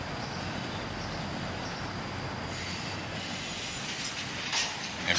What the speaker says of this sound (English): And finally, the tail end of this train passes by.